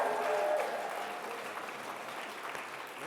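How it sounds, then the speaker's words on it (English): An audience at an evening celebration event applauds in a dense, steady wash of clapping that fades slightly toward the end, with a few murmured voices underneath. "Please, once again, give them a massive round of applause"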